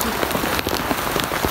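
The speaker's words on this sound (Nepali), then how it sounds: "ओ माई गड यति ठुलो पानी परेर आएको छ यति ठुलो साथीहरू" Heavy rain pours onto village rice fields, a steady, dense patter of drops striking nearby surfaces, loud and unbroken for the whole short stretch.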